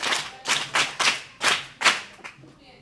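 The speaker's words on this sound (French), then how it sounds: "Applaudissez encore pour Loboué" An audience claps in several loud, separate bursts at the end of a told folk tale, each burst fading quickly before the next.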